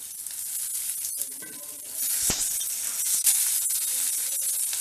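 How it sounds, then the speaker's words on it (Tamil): Turkey berries, onion and tamarind sautéing in a pan, giving a steady broadband sizzle with occasional stirring scrapes and a brief louder clatter midway, no voices. "வெங்காயம், புளி, இதோட சுண்டைக்காயும் சேர்த்து நல்லா வதக்கிடுவோம்"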